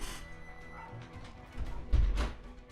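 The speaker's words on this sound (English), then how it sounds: "There's a dog barking in a second." A dog barks and yips a few times in the background, with louder bursts near the end against a low ambient bed.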